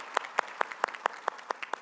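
Applause at a climate conference leaders' event on youth and education, heard as a rhythmic series of about eight sharp, evenly spaced claps, fairly faint and alone with no speech.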